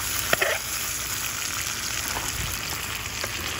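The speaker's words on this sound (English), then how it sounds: "see it fry" Armored catfish (cascadoo) fries in oil for a Florida-style curry, a continuous close crackling sizzle with a couple of small pops early on and no talking.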